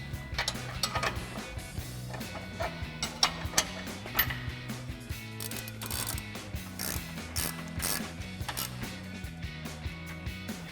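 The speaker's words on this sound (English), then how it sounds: "we're just gonna grab a ratchet with a 16 millimeter socket and tighten those 2 on the back" A hand ratchet with a 16 mm socket tightens bolts on a Body Armor 4x4 Ambush Series front bumper on a RAM 1500, giving repeated close clicking bursts with pauses between strokes and some metallic creaks.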